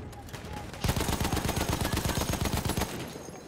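An automatic weapon fires a sustained, close, rapid burst of rhythmic shots during a team match in a tactical shooter video game, followed by a short quiet tail.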